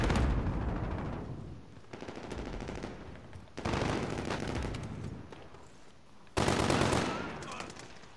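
Bursts of Kilo assault rifle fire in Call of Duty Modern Warfare, three loud rapid automatic volleys, each fading with echo before the next.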